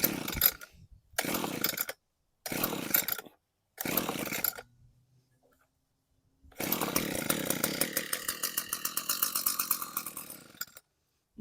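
An Echo chainsaw with a broken throttle, started on choke: four loud separate pull-cord bursts, a pause, then the engine catches and runs steadily with a rough, pulsing idle, alone without talk.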